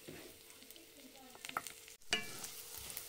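Garlic frying in butter in a pan, a faint sizzle with scattered soft pops and a scraping stir midway, quiet and close.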